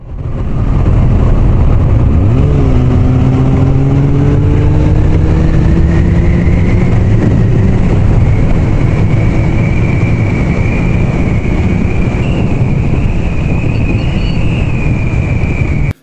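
A motorbike cruises at about 60 mph on a multi-day road trip, its engine droning steadily with rising tonal whine and heavy wind rush throughout, loud and close.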